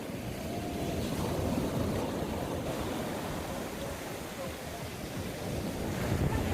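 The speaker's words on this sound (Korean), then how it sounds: "아우 파도 소리가 너무 좋아." Large surf breaking steadily on a sandy beach on Daecheongdo island, Korea, a continuous loud wash of waves with heavy wind noise across the microphone.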